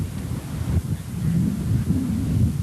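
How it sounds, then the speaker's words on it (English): Wind gusts roar over the microphone near a tornado in open country around Fort Supply, Oklahoma, a continuous low rumbling rush that swells slightly toward the end, heard alone without voices. "the wind's starting to pick up around me"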